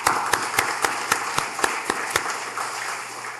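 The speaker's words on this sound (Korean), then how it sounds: "박수 한번 할까요?" A church congregation claps for a couple in the pews, a steady run of distinct, evenly spaced unison claps over a softer spread of scattered clapping that fades into a lingering wash at the end.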